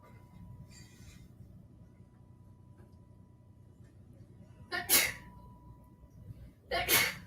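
Two sharp sneezes from a person indoors, one after the other about two seconds apart, loud and close over a quiet background with a faint steady hum.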